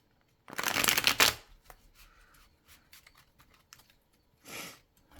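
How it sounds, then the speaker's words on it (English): Tarot cards riffle-shuffled up close, one loud rapid flutter, then soft handling clicks and a second brief riffle. "They do shuffle nice. Make a pretty sound."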